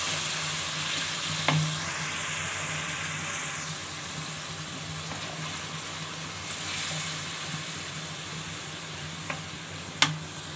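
Garlic and ginger paste fries in a pan, giving a steady, close sizzle with occasional clinks of a stirring spoon.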